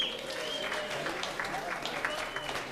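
Stand-up comedy audience applauds steadily throughout, a dense, even wash of many hands clapping with faint crowd murmur beneath.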